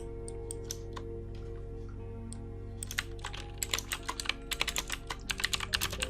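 Keys on a computer keyboard clicking in sparse taps, then a faster run of typing, close up over a steady low electrical hum.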